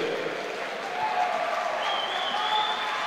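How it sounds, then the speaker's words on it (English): Crowd applause at a swimming championship finals in New Zealand, a steady, dense wash of clapping held at even loudness throughout, with faint whistles or voices rising above it. "let's give a big round of applause for New Zealand champion, Lewis Clareburt."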